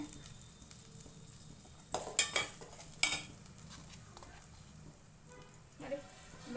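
Masala of onion and garlic frying in a pan for chicken sambar, with soft sizzling and a few sharp scrapes and clinks of a spoon stirring against metal, fairly close and moderately quiet.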